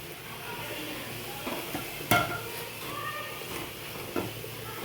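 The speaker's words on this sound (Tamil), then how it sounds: "இப்போ லைட்டாக வந்து வதக்கி விட்டுக்கலாம்" Siru keerai greens and a ground paste are sautéed in a pan, with soft stirring scrapes and a faint sizzle. One sharper clink of a utensil stands out against a low, steady kitchen background.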